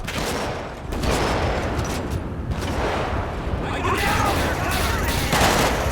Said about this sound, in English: X-25 got shots fired by police.